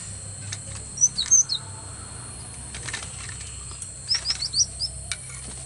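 Chirps from a kacer, the oriental magpie-robin, kept as a forest bird: two short bursts of high twittering notes, about a second apart in each group, moderately near over quiet background hiss with faint insect-like noise.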